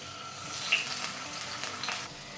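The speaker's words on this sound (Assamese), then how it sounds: "এয়া মই গোটেইখিনি বিলাহী ভাজি ল'ম" Black mustard seeds, green chilies and tomatoes fry in hot oil, giving a dense, continuous sizzle with crackles and a small pop near the start, heard up close and steady throughout.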